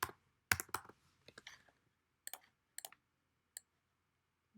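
Labels being typed on a computer keyboard: a handful of light, close key clicks in short uneven bursts separated by quiet gaps, with no voices.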